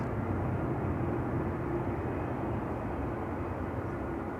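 WestJet airliner at Schiphol Airport, a steady broad engine roar heard from a distance that holds evenly with no voices.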